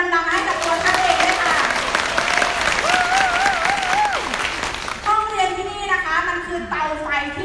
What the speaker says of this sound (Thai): ถ้าได้ปรบมือดังๆให้กับตัวท่านเอง